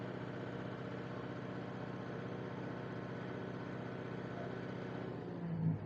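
A Kubota MU5502 tractor engine runs at a steady, fairly quiet hum, with a slight rise in revs near the end.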